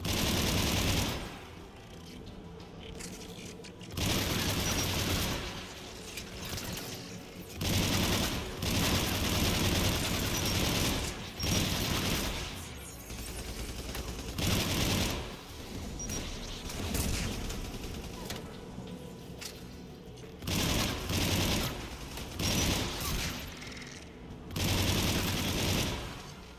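An anti-aircraft gun in Mass Effect 3 fires long, loud bursts of rapid shots, the barrages repeating in waves with short pauses between them.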